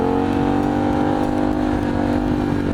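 A motorcycle engine holds a loud, steady, close drone as the rider prepares a wheelie take-off, with no clear revving surge and no speech.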